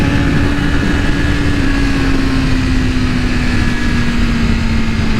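A red 2023 BMW S1000RR sport bike being ridden holds a steady, loud engine drone with a sustained hum and heavy wind rush, the pitch nearly constant throughout.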